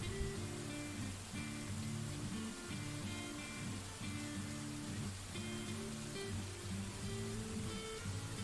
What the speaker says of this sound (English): It rained a little too much